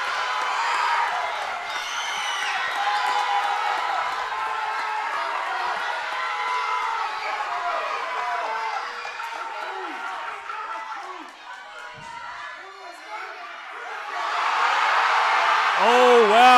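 A crowd roars and cheers at a women's 84+ kg heavyweight deadlift competition, a dense, loud wash of voices that dips briefly, then swells again toward the end, with a commentator talking over it.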